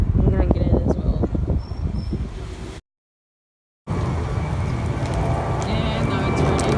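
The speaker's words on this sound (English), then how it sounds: "And now it's raining." Rain falling at a beach, a steady dense hiss with wind buffeting the microphone, interrupted by a short gap of silence before the wash of rain resumes.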